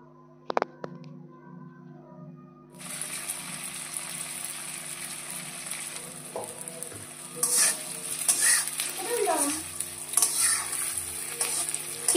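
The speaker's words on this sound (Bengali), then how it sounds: "তেলের মধ্যে একটু লাল লাল করে ভেজে নেব পেঁপের পনির।" Papaya cut into paneer-style cubes fries in oil in a wok, a steady close sizzle that starts after a quiet moment, with occasional stirring scrapes and clinks.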